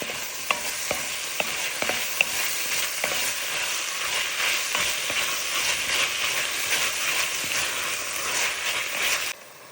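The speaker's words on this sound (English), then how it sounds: "Now I'm going to add the tomatoes and then saute them until they are well done." Tomatoes sauté with browned onion, garlic and ginger in a pan, giving a loud, continuous sizzle with quick scraping ticks of stirring throughout before the sound cuts off near the end.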